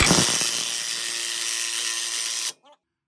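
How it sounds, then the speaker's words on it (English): An old lug nut being driven onto an extended wheel stud on an S10 with a socket spacer, a loud continuous power-tool whir with rattling impact for about two and a half seconds, then stopping with a brief faint tail. "Just gonna put a old lug nut on and drive her home."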